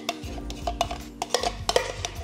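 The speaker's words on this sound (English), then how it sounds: "It's just so yummy to mix pumpkin and butter together." Pumpkin and butter being stirred together in a bowl, with a run of soft wet squelches and scrapes of a utensil against the sides, close and fairly quiet, with no talking.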